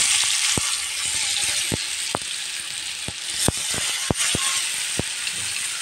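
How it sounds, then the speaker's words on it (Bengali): Spiced baim (eel) fish frying in hot oil in a pan, a constant bright sizzle with sharp crackles and pops scattered irregularly throughout, close and fairly loud. "দেখেন আমার তেলটা গরম হয়ে গেছে, মাছটাও আমার মশলা মাখা হয়ে গেছে। এখন আমি মাছটা দিয়ে দিব।"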